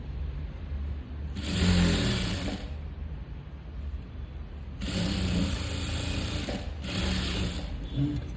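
Sewing machine stitching a sleeve border onto lining, running in three loud continuous bursts with short pauses between them, and no talk over it.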